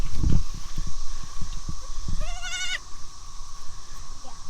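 A goat bleats once, a short wavering call, in a temporary pen on a farm where newborn kids are kept, alongside rustling, shuffling movement and faint background noise.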